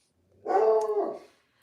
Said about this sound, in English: because Coco will stop barking